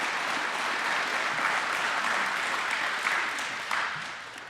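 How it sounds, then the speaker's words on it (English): Steady, dense audience applause for a District 4 candidate at a county election forum, loud and continuous before tapering off near the end, with no talking. "A round of applause for District 4,"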